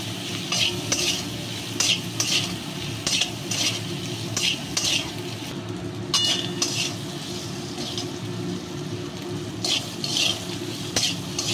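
Spices with red chili powder, turmeric and salt frying in a pan for a Bengali mango fish curry, a soft steady sizzle under repeated scrapes and clinks of a spoon stirring against the pan.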